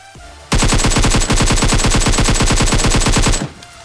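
Automatic gunfire in the PUBG battle royale game, a loud, close burst of rapid evenly spaced shots lasting about three seconds, with a brief hitch partway through and quiet before and after.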